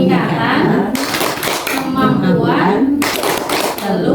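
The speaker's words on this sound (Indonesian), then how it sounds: "Mari kita melakukan tepuk P2K2" A group at a family development meeting does a rhythmic patterned clap, bursts of hand claps alternating with voices chanting in unison, loud and close.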